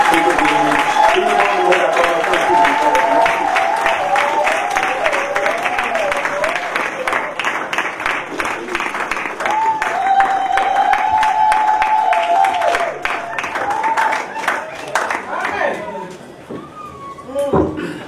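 A church congregation applauds and cheers to welcome two pastors at a service, a steady broadband clatter of many hands lasting throughout with a voice speaking and singing over it and a crowd chattering beneath.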